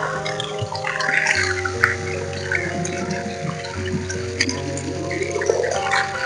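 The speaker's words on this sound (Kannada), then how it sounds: "ಈ ಹಸಿರು ಬಟನ್ ಹೊಡೆದೆ ಅಂದ್ರ ಇಲ್ಲಿ ನೀರು ಬರ್ತಾವ" Water runs steadily into a container after a green button is pressed, a continuous gushing flow under a low mechanical hum, with faint clicks and drips throughout.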